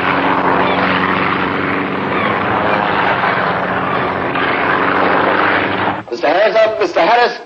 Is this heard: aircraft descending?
yes